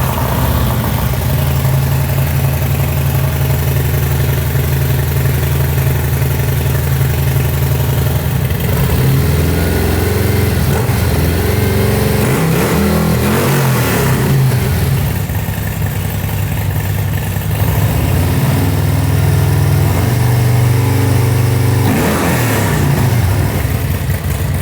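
A Harley-Davidson Milwaukee-Eight bagger motorcycle with a 2-into-1 exhaust runs loudly and steadily close by, a deep lumpy idle broken by a few blips and revs, with no talking.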